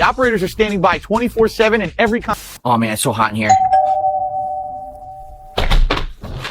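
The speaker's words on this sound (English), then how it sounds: "That's the doorbell" An electronic doorbell rings with one clear, sustained tone that hangs for about two seconds. Someone talks right before it and again just after.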